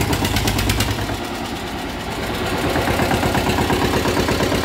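A 2005 Eicher 241 tractor engine idles close by, a loud, steady diesel chug with a rapid even knock, its tone shifting slightly partway through, no voices over it.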